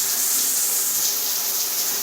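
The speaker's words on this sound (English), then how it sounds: "let me start it and show you the flow of water" Steady, even stream of water pouring from a shower head fitted with a CLEO SFW 815 hard-water and chlorine filter, a continuous close hiss with no talk over it.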